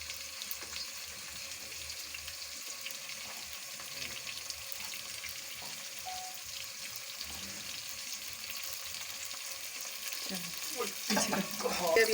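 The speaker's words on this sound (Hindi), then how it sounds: "अब ये हमारी प्याज सुरख हो रही है।" Onions frying in a pan, a steady soft sizzle that continues throughout with faint kitchen clatter and some water-like noise toward the end.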